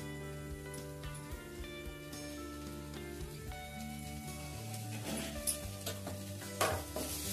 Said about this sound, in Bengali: ধনেপাতা দিয়ে পুরটা ভালো করে মিশিয়ে নিয়ে রেডি করে নিলাম সিঙ্গাড়ার পুরটা